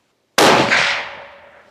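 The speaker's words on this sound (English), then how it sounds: "This baby goes off, it's gonna be like Rambo's grenade" A single sharp, loud shot fired outdoors on a small-town hunt, opening with a sudden crack and then ringing out in a long, fading decay, with no talk.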